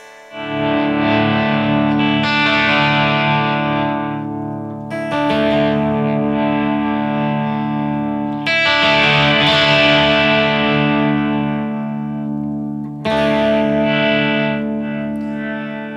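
A Fazley Firebird electric guitar on its bridge pickup rings out sustained, distorted chords through effects, struck four times with the tone control swept between strums; loud and close, no speech.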